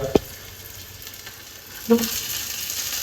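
Food frying in hot oil in a home kitchen pan: a steady, close sizzling hiss runs throughout, broken by two brief utensil clinks.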